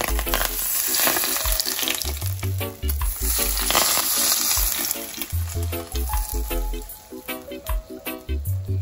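Hot smoking cooking oil poured over a steamed black crappie, giving a loud, steady close-up sizzle and crackle that fades into softer spitting toward the end.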